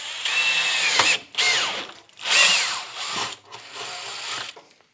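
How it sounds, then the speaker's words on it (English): Power drill bores a 3/8 inch hole in a battery housing, whining in several bursts with short pauses between them as the bit bites into the material, loud and close with no talk. "We're going to basically drill a hole that's tangent to both of those faces"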